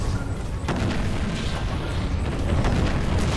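A Nova mortar fires in Treasure Planet: Battle at Procyon, with loud booming blasts, one sharp hit and several softer thuds, over a dense, rumbling space-battle background.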